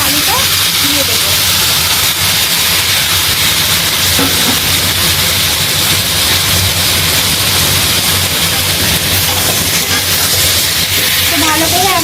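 Cubed papaya and potato tumble into a pan of frying onion and garlic, and a loud, steady, hissing sizzle continues without a break for several seconds.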